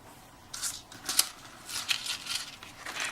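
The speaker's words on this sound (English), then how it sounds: "I'm going to run both of these through the die cut machine" A die cut machine presses pink cardstock with a stitched rectangle die, producing faint, close crinkly rasps and short papery bursts in an otherwise quiet room.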